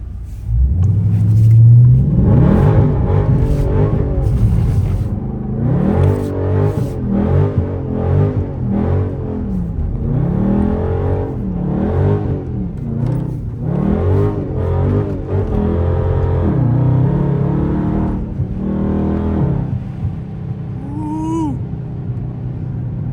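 A Dodge Scat Pack car revs hard while sliding through turns in snow, its rumbling V8 rising and falling in repeated throttle blips, loud and close for over twenty seconds with no talk.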